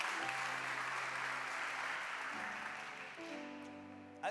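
Applause from a church congregation at a sermon, a steady wash of clapping that runs throughout, with low background tones and a brief louder burst at the very end.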